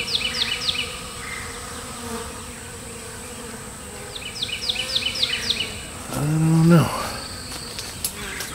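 Agitated honeybees swarm around a swarm trap. Close, continuous buzzing is broken by repeated short, high chirping bursts and a louder swell of droning near the end.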